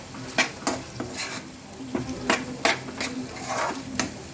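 A spoon stirs a gongura chicken mixture with salt and ginger-garlic paste in a pan, giving repeated scraping clinks and scrapes over a soft sizzle, fairly close and steady, with no talking.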